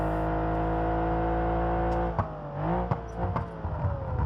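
A DeLorean DMC-12 engine in BeamNG.drive holds a steady, harmonic-rich drone, then wavers and shifts pitch through gear changes and throttle blips in the second half, with no talk.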